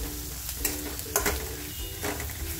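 Bedgi chili masala frying in a pan for a village-style mutton masala and rassa makes a moderate, continuous sizzle. Several short bursts of scraping or stirring break through the sizzle, and nobody speaks.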